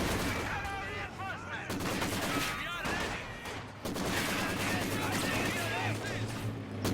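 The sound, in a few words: Maxim machine gun firing in Company of Heroes 2 video game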